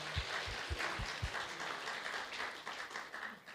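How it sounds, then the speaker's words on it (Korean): Applause from a congregation at a pastors' fellowship evening service welcomes seminary students, a moderate, fairly distant patter of clapping with a few sharp low thumps near the start, fading toward the end. "우리 박수로 환영하겠습니다"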